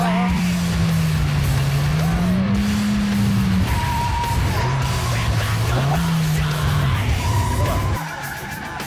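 A car cornering hard on a driving course, its tires squealing in long, wavering tones over a steady engine roar, loud and close, with no talk.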